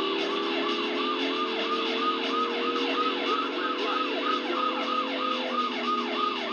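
A police siren wails in the PlayStation driving game Driver 2, a rapid repeating rising-and-falling yelp over a continuous engine drone, loud and unbroken.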